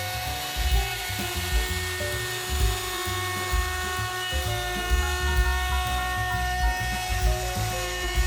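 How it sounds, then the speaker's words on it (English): A router rounds over the perimeter of a wooden plaque with a steady high-pitched motor whine and a continuous cutting buzz, close and constant for the whole stretch, with no voices. "Over to the router to put a rounded edge all around the perimeter of the plaque here."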